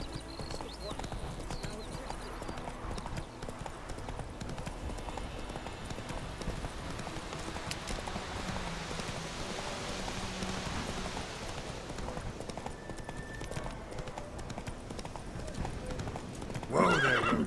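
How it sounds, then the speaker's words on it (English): Horse hooves clip-clopping steadily on a road in The Witcher 3 game, with a horse's neigh, under continuous game ambience and music; a voice talks over it. "Whoa there, Roach."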